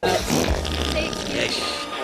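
A short, sputtering fart sound effect from the family superhero movie Zoom, loud and close for about a second, with voices carrying on around it.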